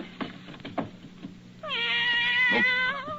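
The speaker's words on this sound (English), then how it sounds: "A cat in my desk." A cat hidden in an office desk lets out a long, clear meow, close and fairly loud, after a few soft thumps and rustles.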